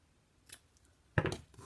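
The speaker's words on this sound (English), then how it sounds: "And then I'm going to cut this off." Scissors cutting off a tied ribbon on a chalk-transfer craft piece, one faint snip followed by a louder, crisp closing cut, close up in a quiet room.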